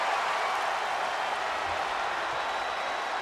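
A wrestling crowd at an indoor event cheers and applauds for the challenger, a dense continuous hiss of clapping and voices at steady volume with no commentary over it.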